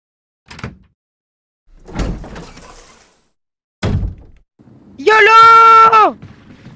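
A door opening in the Resident Evil video game: a few dull thunks and knocks, then a loud sustained creaking, tonal groan lasting about a second near the end.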